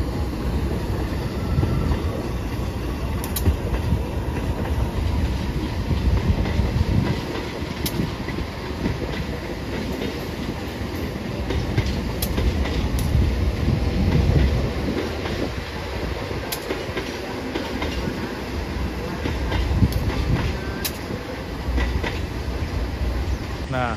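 Argo Wilis passenger train rolls slowly past in a steady, near rumble with rhythmic wheel clatter and faint high squeals, and voices murmur now and then.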